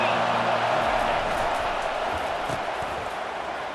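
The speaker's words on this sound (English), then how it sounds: "Decibels rising as the crowd gets behind this defense on 3rd down" Loud, dense roar of a football stadium crowd building on third down, a sustained wash of noise that fills the whole stretch with faint cheering inside it.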